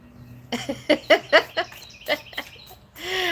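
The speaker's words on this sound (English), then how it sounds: "That bird is so freaking loud." A loud bird singing outdoors, a series of sharp, bright chirps and calls in quick bursts, close and prominent, with a shriller call at the end.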